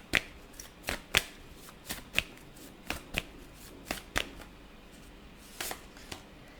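Tarot cards shuffled by hand during a pick-a-card reading, giving a series of sharp riffling snaps and flicks at irregular intervals, close and fairly quiet with no talking.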